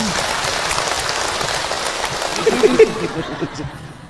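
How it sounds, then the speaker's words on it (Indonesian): An audience at an Islamic religious lecture on raising children gives dense, hissing applause like heavy rain. It is loud and continuous, then tapers away near the end, with a few chuckles and voices rising as it fades. "Boleh ibu tepuk tangan untuk Hilman."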